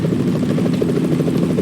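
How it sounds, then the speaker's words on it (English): A helicopter's rotor thumps steadily in a fast, even pulse, loud and close, with no voices over it, in the video game Metal Gear Solid 2: Substance. "Is that a chopper I just heard?"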